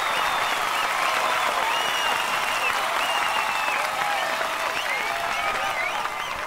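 A large audience claps continuously at a public gathering in a Telugu revenge drama, the dense, even applause holding loud and steady throughout.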